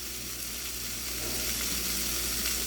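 Chicken breast sizzles steadily in a cast iron pan over high heat, a continuous close frying hiss holding even and loud throughout with no talking.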